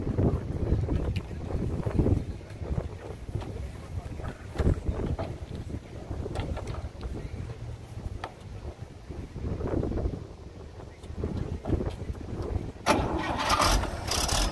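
A small antique engine sputters and catches after a cord pull, then chugs steadily outdoors at an antique tractor and engine show, with wind buffeting the microphone.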